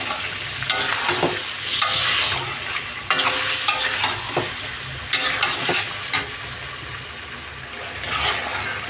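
Onion, garlic and ginger paste sautéing in a pan for chicken curry, a loud close sizzle with repeated stirring scrapes every second or so, steady and without speech.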